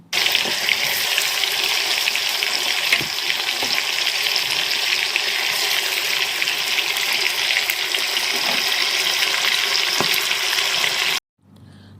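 Loud, constant sizzling of food frying in hot oil, close by, with occasional soft clicks and stirring taps throughout.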